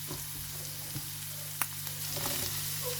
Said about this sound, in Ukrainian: Цибулька моя вже підсмажилася трішки, стала прозорою я буду додавати вже сюди і моркву свою.